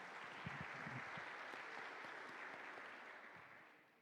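Church congregation at a Sunday service applauding together, a steady wash of many hands clapping at moderate distance, fading slightly toward the end.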